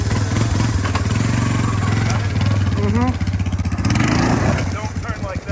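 A Honda ATC 250SX three-wheeler engine runs close by with a loud, steady, throbbing idle and slight revving, while people talk over it.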